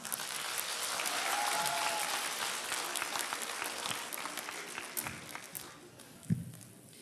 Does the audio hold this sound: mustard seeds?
no